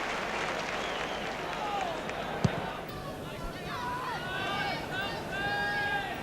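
Football crowd at a Chelsea v Manchester City FA Cup fourth round match, a steady broad roar of cheering with scattered whistles and shouts throughout, one sharp thud midway, and a commentator talking over it.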